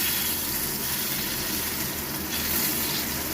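Eggplant pieces frying in hot oil give a dense, steady sizzle and crackle that holds at an even level for the whole stretch, with no voices.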